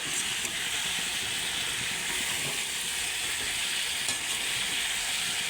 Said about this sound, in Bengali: দিয়ে আবার একটু ভালো করে কষে নেব ভালো করে কষাতে থাকবো